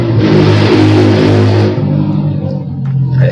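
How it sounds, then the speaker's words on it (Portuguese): A motorcycle passes close by on a street, its engine loud and revving for a second or so before fading off into the distance, with no talking over it. "Até passou uma moto aqui."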